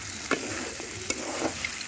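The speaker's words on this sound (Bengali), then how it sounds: "কুরবানির ঝুরা মাংস মানে ভাজা মাংস রান্না করার জন্য মশলাটা ভালো করে কষিয়ে নিয়েছে" Sacrificial Eid meat fries in a pan with well-cooked spice paste while it is stirred. A quiet, continuous sizzle carries a few scattered scrapes and taps, with no talking.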